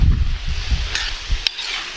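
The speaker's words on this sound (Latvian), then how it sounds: "Tā, kad sīpoli ir uzbērti, tad apmaisam." Onions being stirred into venison frying in a kazan, with soft scraping and stirring scuffs over a low sizzle, plus a couple of brief sharp metallic clinks.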